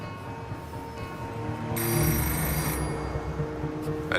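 An electronic telephone ringer trills in a steady, repeating pattern with harmonic tones, getting louder partway through, in a quiet indoor scene from a French film with no talking.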